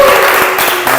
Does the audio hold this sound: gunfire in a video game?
no